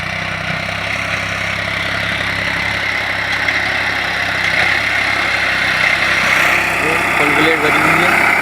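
A New Holland 3600-2 tractor fitted with a dozer blade runs in first gear, its engine giving a steady, continuous drone throughout while someone talks over it.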